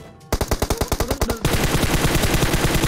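A Tommy gun fires in PUBG Mobile: after a brief pause, a rapid string of about a dozen sharp automatic shots gives way to a denser, continuous burst of gunfire, loud and close with no talk.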